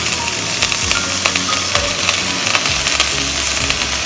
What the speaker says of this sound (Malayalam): എന്നിട്ട് ഒന്നുകൂടി നന്നായിട്ട് വഴറ്റണം കേട്ടോ